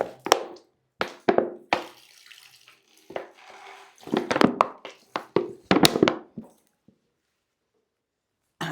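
Water sloshes and splashes in a container as it is shaken in short bursts, with irregular thuds and swishes and brief pauses between them, close and fairly loud, with no talking.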